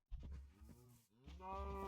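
Cow mooing in modded Minecraft on a farm, two drawn-out low, tonal moos close by, the second rising and holding steady, with no talk over them.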